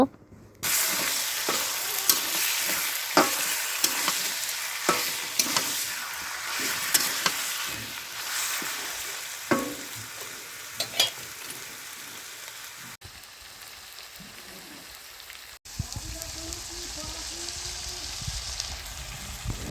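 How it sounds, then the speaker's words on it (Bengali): Broiler chicken pieces fry in a wok with a loud, continuous sizzle and frequent scraping stirs. Near the end the sizzle drops away to a quieter, softer simmer. "সবটুকু মাংসই আমি কড়াইয়ের মধ্যে ঢেলে দিয়েছি"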